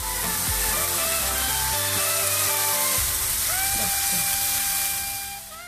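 Carrot and cabbage frying in a pan just after a splash of soy sauce give a loud, steady, close sizzle and hiss that runs unbroken throughout, with melodic tones underneath.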